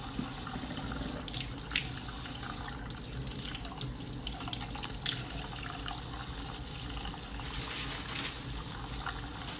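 Tap water running into a sink while a hair frontal is rinsed, a continuous close hiss of flowing water with splashing that shifts as the hair is moved under the stream.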